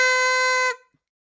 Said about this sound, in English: Any excuse for a honk